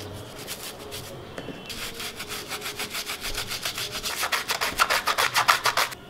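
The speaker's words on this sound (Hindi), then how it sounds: "अब हम स्क्रब से इसे चारों तरफ रगड़ देंगे।" An old brush with dish gel and a little water scrubs a metal tea strainer in a kitchen, giving steady rhythmic rubbing strokes that grow quicker and louder toward the end, close up, with no talk.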